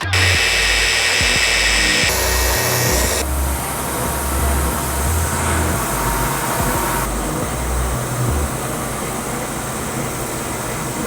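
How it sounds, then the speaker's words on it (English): A drum sander grinds steadily across a wooden countertop slab on repeated passes, a loud continuous machine roar with shifting pitch as the board feeds through, and a brief lull near the three-second mark. "we just got this through the drum sander probably like 10 times"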